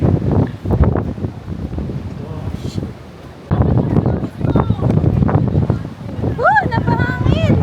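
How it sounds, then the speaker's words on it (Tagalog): Gusty coastal wind rushes against the microphone in chilly Busan, Korea, rising and dropping in loud waves beneath people chatting nearby. "Napahangin."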